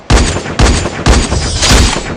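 Shotgun-style video game gunfire: four loud, sharp blasts roughly half a second apart, each with a short booming tail, and no voices.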